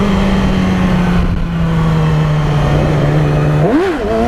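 A Honda Grom motorcycle engine hums at a steady note, then revs up in one sharp rise and fall as the clutch drops for a wheelie, loud and close with no talking.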